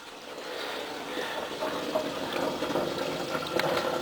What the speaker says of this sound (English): I'm going to siphon all that beer into the primary